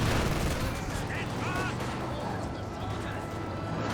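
Dense gunfire and battle effects from the real-time strategy game Company of Heroes 2, a steady crackle of rifle and machine-gun shots throughout, with a commentator talking over it.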